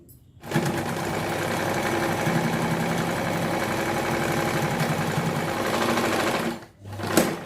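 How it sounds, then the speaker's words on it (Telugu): A sewing machine stitches a hook strip onto cloth, running in one steady whirring burst for about six seconds. After a brief pause it gives a short final spurt, close and with no voices. "ఇలాగా కుట్టేసేయండి పైన ఇంకొక స్టిచ్ వేసేయండి"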